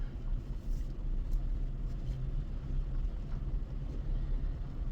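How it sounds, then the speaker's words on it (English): Truck engine idling at dusk, a low steady rumble heard from inside the cab with windows down, continuous and fairly quiet with no speech. "It's harder to hear with the truck running."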